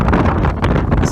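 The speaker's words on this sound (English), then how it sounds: "Seriously windy." Strong wind buffeting the microphone at the ocean's edge in Guam, a loud, dense roar over a very brief moment.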